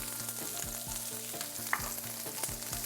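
Sliced carrots, onion and ginger juliennes stir-frying in a pan over a medium flame, a steady close sizzle broken by a few soft clanks of the utensil stirring.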